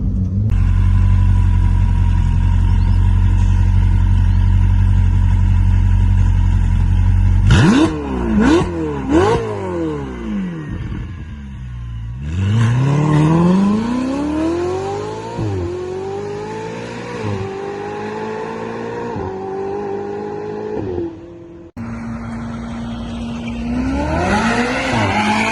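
Ferrari 488 GTB with a Fi Exhaust system idles loudly, then screams through a series of sharp, rising high revs and quick drops, with further revving bursts toward the end.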